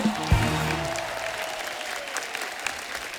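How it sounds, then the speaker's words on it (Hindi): Studio audience on a comedy talk show clapping for arriving guests, a burst of applause with some crowd noise after a brief low thump at the start. "जोरदार तालियां हो जाए हमारे मेहमानों के लिए।"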